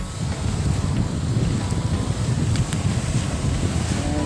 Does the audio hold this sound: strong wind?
yes